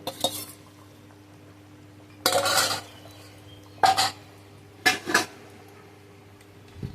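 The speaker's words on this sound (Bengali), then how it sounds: "এবার ঝোলটার সাথে ভালোভাবে মিশিয়ে নিয়ে আবার ঢেকে দেব" Potatoes being stirred into mutton curry gravy in a pot, with three separate bursts of spoon scraping and clanking against the metal pot, separated by quiet pauses under a steady low hum.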